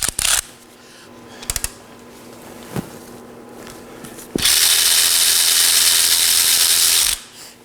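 A ratchet wrench breaking free the 14mm brake caliper slide pin bolts on a 2013-2019 Nissan Sentra, with a few clicks and knocks, then a long, loud, fast ratcheting whir lasting several seconds up close.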